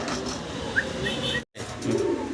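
Giribaz pigeons coo softly nearby in short, low calls, with a few brief chirps over a faint background murmur. The sound drops out briefly near the middle.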